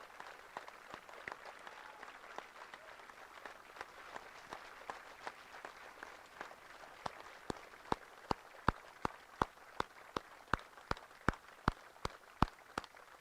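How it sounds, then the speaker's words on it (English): Audience applause at an army cadet advanced camp graduation ceremony, a broad wash of clapping that grows into sharper, regular individual claps toward the end, steady and moderately loud with no talk. "give me a big round of applause for these great leaders"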